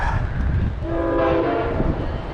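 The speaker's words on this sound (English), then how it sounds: "a fast train. Thanks, Amtrak." An Amtrak fast train rushes past a newly opened station platform, loud and close, its horn blaring in a sustained blast over the rumbling rush of the rail cars.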